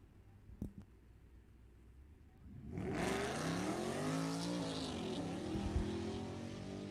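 A 2019 Ford GT launches down a quarter-mile drag strip, its engine note rising sharply into a loud sustained roar that sweeps upward through the gears, after a brief quiet start with a couple of sharp knocks.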